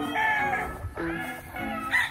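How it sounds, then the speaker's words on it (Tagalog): A fighting rooster crows in a rural backyard, two loud, close cock-a-doodle-doo calls with harmonic rising and falling tones, separated by a short pause. "yan ang mga manok panabong natin."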